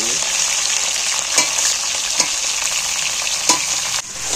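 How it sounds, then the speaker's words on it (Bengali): Chicken pieces fry in a small amount of onion-fried oil with cardamom and whole dried chillies, a steady close sizzle broken by a few sharp scrapes of stirring in the pan, with no voices. "এইবার আমি মাংসটা ওই অল্প তেলের মধ্যেই একটু নাড়াচাড়া করে নেব।"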